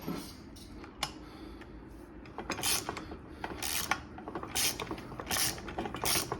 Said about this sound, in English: So let's get this tightened up.